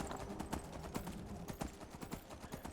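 Horse hooves clip-clopping at a steady travelling pace in the video game Skyrim Anniversary Edition, a regular stream of light thuds running alone under faint game ambience.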